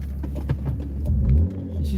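A BMW E36 engine idles with a steady low rumble, close by, its tone swelling slightly partway through and then settling back.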